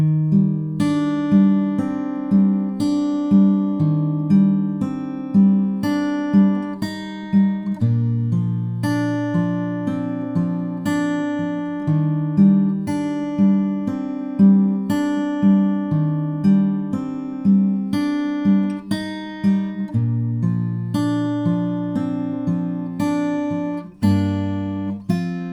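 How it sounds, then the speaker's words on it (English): Acoustic guitar fingerpicks the chorus of a song, steady plucked arpeggios with chord changes and ringing bass notes over about twenty-five seconds, close and alone. "So that's it for the fingerpick chorus, which sounds like this in total."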